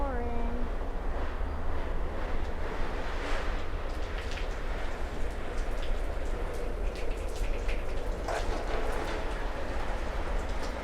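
Water sprayed over a tool trailer during a leak test, a steady rain-like hiss of droplets pattering on the surface throughout, with no talk.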